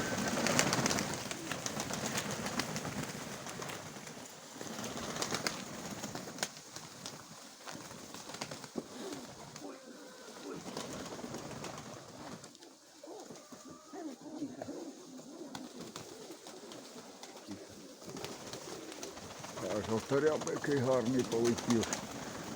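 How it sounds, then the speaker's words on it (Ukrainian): Pigeons in a village loft coo softly now and then behind steady conversation, with rustling, wing flutters and handling noises close by. "Це молода голубочка? Ні, це, це голубка"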